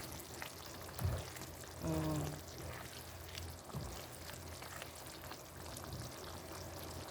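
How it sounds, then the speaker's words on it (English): Teriyaki sauce simmers and sizzles in a pan for fried pork, a soft steady bubbling hiss that runs the whole time with a few brief louder clinks and bumps. "We're gonna keep cooking the sauce."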